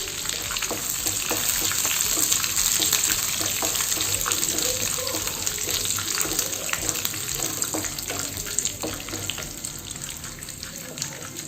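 Mustard seeds, lentils, peanuts and curry leaves frying in hot oil, a steady sizzling hiss dotted with small, scattered pops and crackles, with no talking over it.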